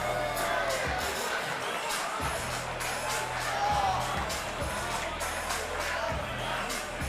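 A fight event crowd roars in a dense, sustained wall of noise with jeers and shouts after an accidental kick, continuous and fairly loud throughout.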